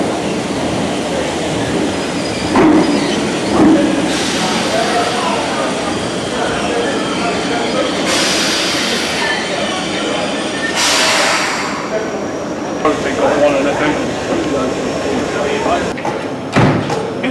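A Class 313 electric train idles and shifts at the platform of Moorgate Station, with thumps, hissing air and a brief squeal under loud background rumble.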